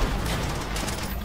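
Dense gunfire in Call of Duty: World at War co-op roars as a steady wash of overlapping shots, moderately loud, filling the whole brief moment without pause.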